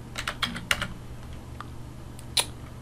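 Quick bursts of clicking keys on a computer keyboard that is acting up, a few fast strokes, a pause, then one more tap, close by with no voices.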